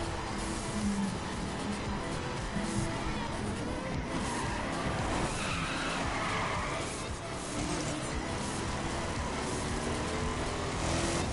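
A Ford car in The Crew racing game drives hard with a steady, dense roar of engine and road noise and the hiss of tyres skidding, loud and unbroken throughout.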